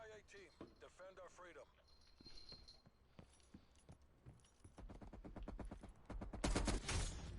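Rapid gunfire in the video game Call of Duty Cold War, quick bursts of sharp shots building into a dense rattling volley toward the end, quiet in the mix, with players talking over it.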